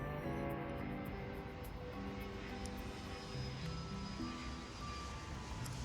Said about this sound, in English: Our plane has arrived.